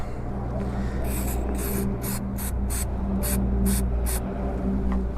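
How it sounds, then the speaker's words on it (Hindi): Chain cleaner sprays in short hissing bursts onto the dirty chain of a Hero Xtreme 125R motorcycle, about nine quick spritzes in an uneven rhythm over a steady low hum. "चलो भाई चेन क्लीनर तो मार दिया।"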